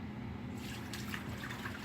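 Purified water poured into a crock pot for homemade vegetable soup, a steady close trickle and splash running continuously without pause.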